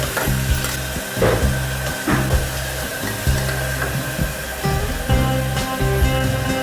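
A spoon stirs an Andhra-style instant tomato bath in a pan after salt is added, making steady scraping swirls over a constant loud sizzle of frying, with faint clinks against the pan and no voices.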